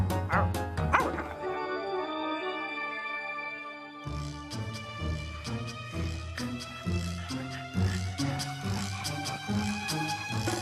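Small dogs bark in quick, lively bursts, some yipping and whimpering, close and loud over a continuous musical accompaniment, with faint talk at moments.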